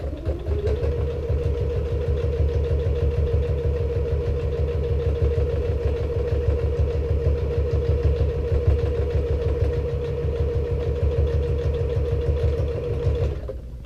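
A sewing machine runs continuously, stitching back over the seam of a fabric passport wallet, a close, steady mechanical whir with rapid even needle pulses from start to finish.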